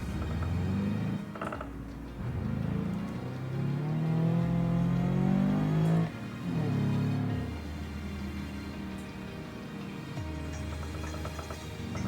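A car driven hard in a video game, its engine revving up and down in repeated surges with whirring mechanical tones, steady and fairly close, with no talking.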